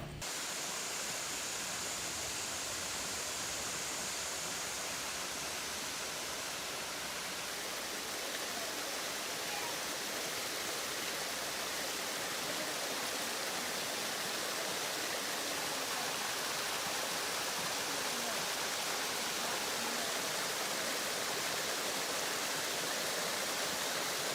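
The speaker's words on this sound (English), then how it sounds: "This waterfall is tall, but the water volume seems fairly low to me" A tall waterfall with low water volume at the Delaware Water Gap pours in a steady, even hiss that holds constant and unbroken with no voices.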